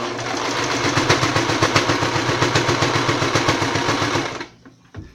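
Sewing machine stitching a small fabric dust mask, a close, loud, evenly pulsing mechanical whir that runs steadily for about four seconds and then stops, followed by a couple of faint clicks.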